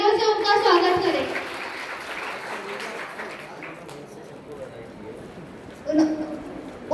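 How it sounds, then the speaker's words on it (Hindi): At a school Teachers' Day function, an audience claps loudly to welcome teacher Anokhilal Malvi. The applause is strongest at the start and fades over a few seconds, with voices heard over and after it. "कृपया जोरदार तालियों से उनका स्वागत करें"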